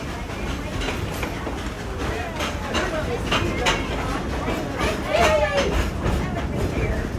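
Narrow gauge coal-fired steam train, Dollywood Express Baldwin Mikado engine number 70, rumbles along at night with a steady rolling roar and rattling cars, close and continuous, with a brief squeal near the end.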